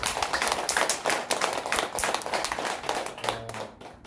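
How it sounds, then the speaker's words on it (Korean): Hearty clapping from a temple congregation at a Buddhist Baekjung Dharma service at Sugwangsa, thanking the volunteers, with close, distinct hand claps in a quick uneven rhythm through the whole stretch. "그 많은 분들을 위해서 큰 박수 부탁드립니다"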